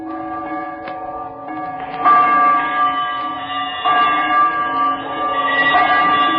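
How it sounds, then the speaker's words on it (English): A large old bell swinging and ringing as a radio drama sound effect, with slow resonant strikes that layer into a sustained, humming metallic tone, loud and close. "he saw this bell begin to swing"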